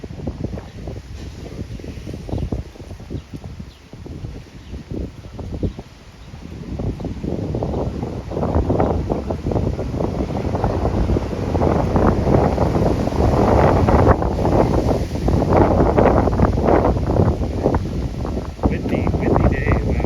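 Gusty wind buffets the microphone on a windy Toronto city street, loud rumbling bursts that build and grow stronger over time, mixed with faint background traffic.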